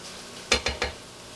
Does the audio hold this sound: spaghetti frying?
yes